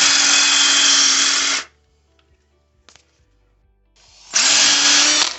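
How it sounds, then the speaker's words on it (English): A power drill bores bolt holes into a floor, a loud steady whir running for over a second, falling silent with a faint click, then starting up again just as loud. "I'm gonna drill all 4 holes"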